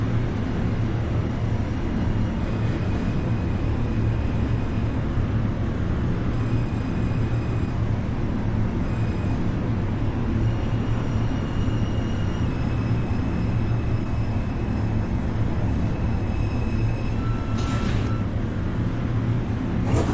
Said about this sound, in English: This is an Eastchester-bound 5 local train.